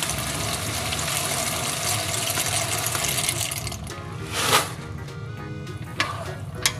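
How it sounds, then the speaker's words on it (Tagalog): Tap water running into a pot to be boiled for elbow macaroni, a loud steady splashing rush that stops partway through, followed by a few faint clinks and knocks of the pot. "Magpapakulo ako ng tubig para sa elbow macaroni."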